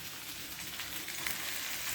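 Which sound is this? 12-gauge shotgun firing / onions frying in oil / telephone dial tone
onions frying in oil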